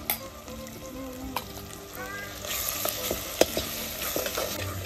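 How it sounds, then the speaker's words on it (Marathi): Dry masala sizzles and fries in a pan on a wood-fired stove while a spoon stirs and scrapes, with crackling bursts and occasional metallic clinks up close. "आता हा कोरडा मसाला टाकून घेऊया."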